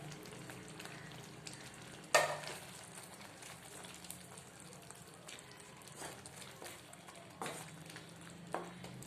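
Onion and tomato being mashed with a ladle in a pan for pav bhaji, a quiet sizzle with soft scraping and stirring strokes, one sharper knock of the ladle near the start.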